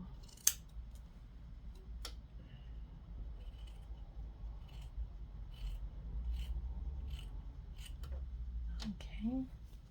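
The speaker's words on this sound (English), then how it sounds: "I'm also gonna cut off this excess fabric in the front here with that salvage edge." Scissors snip and rasp through excess fabric with a selvage edge on a homemade diaper cover, close and quiet, with scattered crisp cuts across the span and faint handling noise.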